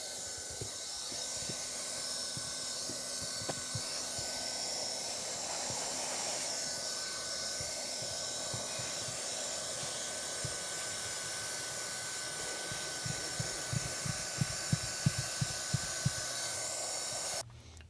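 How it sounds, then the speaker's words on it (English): A hot-air welder blows a steady, loud hiss while seaming a TPO roofing membrane at an inside corner, with light tapping and scraping knocks building toward the end before the blower cuts off. "when we start welding this corner"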